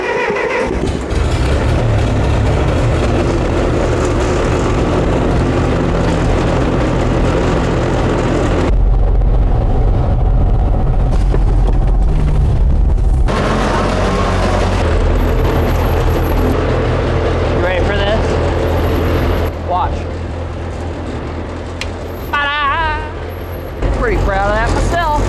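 Massey Ferguson MF35 tractor engine cranking and running steadily near the listener, a low rumbling drone with a brief change in tone midway, while a person talks over it.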